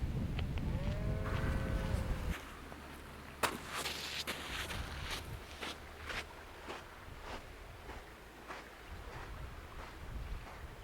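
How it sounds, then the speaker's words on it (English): Low cattle moos carry across an open outdoor space, with wind buffeting the microphone and scattered knocks and rustles, no talking. "Look at these cows."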